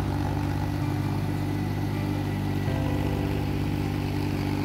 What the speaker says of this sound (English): Now let's see how weeding is done in the farm using mini tractor.